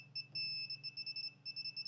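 A circuit breaker finder, switched on and learning the electrical panel, emits a rapid, steady run of high electronic beeps in short repeated bursts, close and clear over a low hum.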